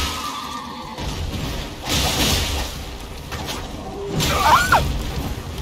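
Horse in the Elden Ring video game giving a brief, shrill whinny near the end of a burst of combat sounds, with swooshes and impacts around it.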